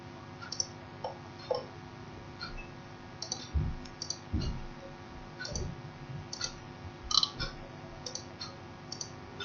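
Computer mouse clicks from a Revit drawing session, a series of sharp, faint, irregularly spaced clicks over a low background hum.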